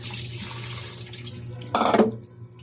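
Water drains off freshly washed anchovies being prepared for salted fish paste, a short splashing pour that swells briefly near the end over a faint background hum.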